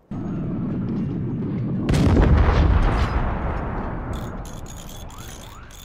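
Cannon fire in the RTS game Forts, a sudden heavy boom that rolls and decays over a couple of seconds, followed by lighter mechanical clicks, loud and without talk.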